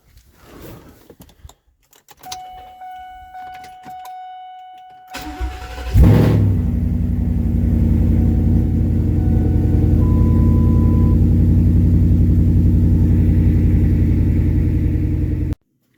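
A car on a freshly installed Antigravity battery falls quiet for a few seconds, then the starter cranks briefly and the engine catches, settling into a loud, steady running drone.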